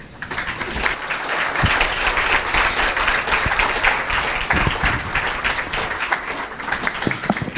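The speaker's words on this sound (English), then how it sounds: "We could all please show our thanks with a round of applause." After a talk by Radhanath Swami in London, a hall audience gives a sustained round of applause, many hands clapping densely and steadily at full strength before easing slightly near the end.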